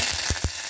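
Cumin, mustard seeds and curry leaves sizzle in hot oil in a pressure cooker, a brief close hiss with two quick sharp pops or spatters.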